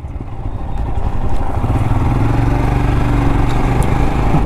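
A 2022 Royal Enfield Scram 411 scrambler motorcycle rides over large loose gravel off-road, its single-cylinder engine thrumming loud and close as revs build steadily, with crunching stones underneath.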